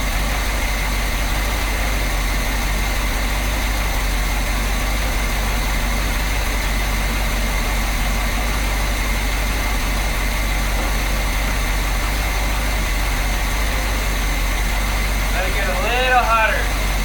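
A 1973 Corvette Stingray with a 454 engine idles steadily while warming up, a constant low rumble close at hand. A brief voice comes in near the end.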